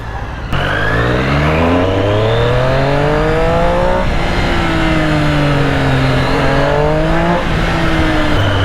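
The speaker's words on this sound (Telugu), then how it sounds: "వచ్చింది మన బైక్." A Triumph Trident motorcycle engine running loud and close, a rich droning note that rises and falls through several revs and throttle blips after a sudden start, with no talk over it.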